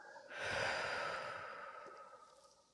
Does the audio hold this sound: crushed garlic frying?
no